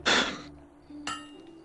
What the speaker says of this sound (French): Un coup de marteau parfait.